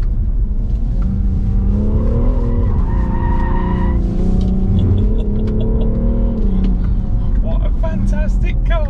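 A 2021 BMW M340d Touring accelerating hard, its engine note rising through the gears with tire noise, loud and continuous for several seconds while someone talks over it.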